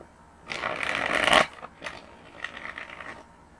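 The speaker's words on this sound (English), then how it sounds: "One more shuffle for number two." Tarot cards being shuffled by hand, with a dense burst of riffling at close range followed by a few softer, scattered card flicks and slides.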